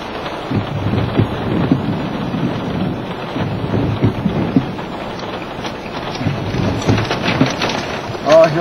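Heavy rain pours steadily during a hail storm while deep thunder rumbles and rolls through, loud and continuous, with brief bursts of a voice over the downpour.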